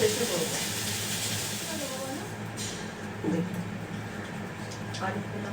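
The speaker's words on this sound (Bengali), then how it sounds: "এবার এটা ভেজে নিই তেল হয়ে গেছে" Shrimp frying in hot oil in a home kitchen, a steady sizzling hiss close by with a brief louder burst, while people talk over it.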